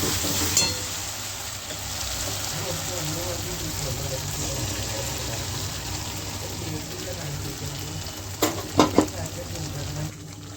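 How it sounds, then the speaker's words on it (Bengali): Spinach paste for palak paneer sizzles and fries as it goes into a hot pan, a steady crackling hiss throughout with a few sharp clinks of a utensil near the end. "এবার আমি পালং শাকের পেস্টটা দিয়ে দিচ্ছি।"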